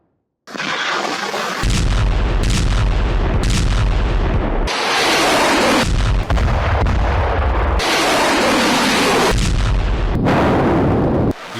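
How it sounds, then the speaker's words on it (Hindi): Russian howitzer artillery firing at a Ukrainian armoured car, loud booming blasts with heavy rumbling roar that fills the whole stretch, several sharp onsets rising over a continuous thunderous background, with no talking. "हॉट्जियर से हमले को अंजाम दिया गया है।"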